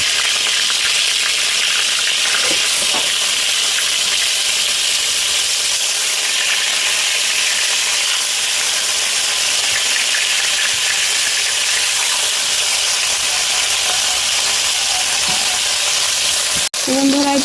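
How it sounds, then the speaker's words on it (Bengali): Pieces of fish shallow-frying in hot oil for a Bengali fish-head and Malabar spinach dish give off a loud, steady sizzle and crackle that runs unbroken from start to end, with a brief clatter near the close. "মাছগুলো আমি লাল লাল করে ভেজে নেব"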